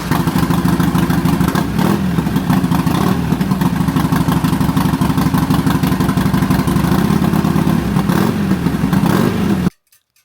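A Harley Sportster 1200 with new exhaust gaskets and a quiet baffle runs loud and close with a rapid, uneven throb, then cuts off abruptly near the end.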